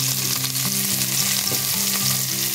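Cauliflower frying in a pan with salt and turmeric gives a steady, close sizzle with stirring movement and a faint low tune running underneath. Nobody speaks.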